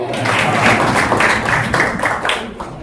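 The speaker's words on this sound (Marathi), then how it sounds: "सरांसाठी जोरदार टाळ्या." A classroom group gives a teacher a round of clapping during a taluka-level training lesson presentation, a dense, steady patter of many hands close by that fades slightly toward the end.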